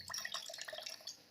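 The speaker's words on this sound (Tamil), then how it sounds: "இது மாதிரி வடிகட்டினா ஒரு வெள்ளை துணி போட்டு கூட இதுக்குள்ளே மொத்தம் நம்ம அரைச்ச தேங்காய் போட்டு இது மாதிரி பால் மட்டும்" Liquid drips and trickles in a short, steady patter as milk from ground coconut is squeezed through a white cloth, close and fairly soft.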